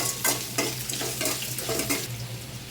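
Onions sautéing in a hot pan with steady sizzling and frying, broken by repeated scraping stir strokes of a spatula at a close, fairly loud level with no talking.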